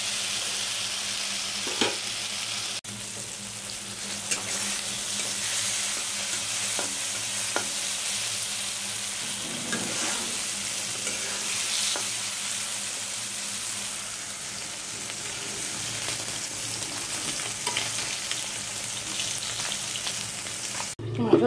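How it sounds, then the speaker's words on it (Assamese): Fish frying in a pan of oil gives a continuous close sizzle and crackle with occasional spatter pops over about twenty seconds, while faint background sounds come and go and no one speaks. "আৰু এইফালে মাছ ভাজি আছোঁ"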